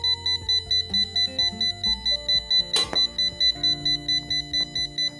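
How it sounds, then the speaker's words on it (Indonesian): Fire-detection alert from an adaptive cane for the blind, triggered by a lit stove, pulsing rapid electronic beeps in a steady rhythm, loud and continuous with one brief clatter midway. "Ya, dia akan berbunyi seperti itu ya. Nah, dia akan bergetar seperti itu. Itu tandanya ada api."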